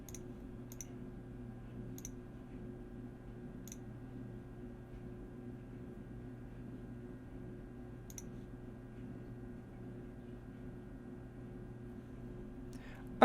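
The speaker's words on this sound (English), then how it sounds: "We're just clicking buttons, and we're gonna keep clicking buttons until something works." Sparse, sharp computer mouse clicks during a Football Manager 24 session, a handful of isolated taps spaced seconds apart over a steady low electronic hum.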